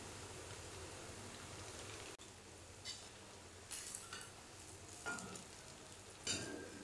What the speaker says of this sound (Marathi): गोल्डन होईपर्यंत मस्त असं तळून घ्यायचे।